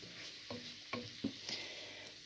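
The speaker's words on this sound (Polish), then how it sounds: "I sobie to lekko przysmażymy." Ingredients for a cheap, quick cucumber soup sizzle quietly in a pan, with a soft continuous frying hiss and several light clicks of stirring.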